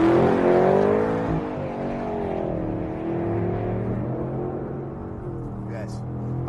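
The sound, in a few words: sports car engine accelerating, traction control off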